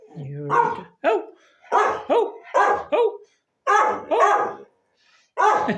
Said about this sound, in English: I'm going to make you bark now.